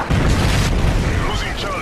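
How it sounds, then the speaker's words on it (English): A Predator missile explosion in Call of Duty Modern Warfare 3 hits as a loud, deep boom that rolls on for about two seconds, with game noise and faint tones rising near the end. "Friendly Predator missile inbound"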